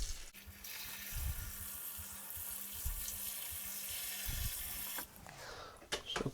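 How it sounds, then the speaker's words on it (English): Tap water runs steadily into a kitchen sink to soak fresh produce, a continuous close hiss and splash that stops abruptly near the end, followed by brief clattering. "Soak these in some water."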